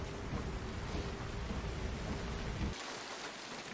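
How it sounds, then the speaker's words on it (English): Heavy rain from the film Psycho (1960) pours in a dense, loud hiss with low rumbling, then the low end suddenly drops away near the end, leaving a thinner downpour. "you have the rain pouring down"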